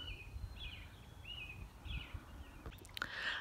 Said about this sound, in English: I haven't heard that bird chirp by the garden before. It was a quail